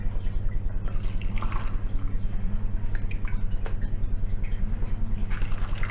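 Pickle brine runs through a funnel into a canning jar, a soft trickle and drip close by beneath a steady low hum, with no talking.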